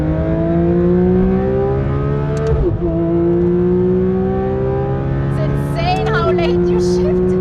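A Porsche 911 GT3 RS (992) engine revs hard on a race track, its loud tone rising steadily through the gears with two sharp upshifts, heard close from inside the car with no talking.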